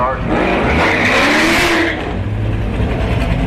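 A Camaro drag racing car accelerating hard at Orlando Speed World, a loud, close engine roar rising in pitch and then easing off as the car pulls away, with crowd noise around it.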